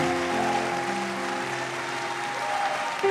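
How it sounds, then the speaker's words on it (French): A church congregation bursts into applause and acclamation during a Sunday sermon, a dense, steady wash of clapping and voices that fills the space at a constant level and swells slightly at the very end. "Nous devons acclamer."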